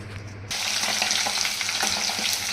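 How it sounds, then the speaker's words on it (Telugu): Prawns with ginger garlic paste hit the hot pan with a sudden burst of sizzling, then keep up a close, steady frying crackle with light stirring pulses. "ఇట్లా ఫ్రై చేసుకోవాలి రొయ్యల్ని మంచిగా."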